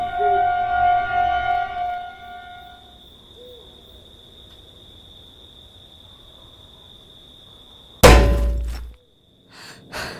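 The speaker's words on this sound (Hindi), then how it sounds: "तभी अचानक से कैबिन के दीवार पे एक जोरदार पत्थर की आवाज़ आई" A heavy stone strikes the wall of a railway cabin at night as a dramatised story effect: a single loud, sudden thud with a short crashing tail after a long stretch of quiet crickets and an owl's hoot.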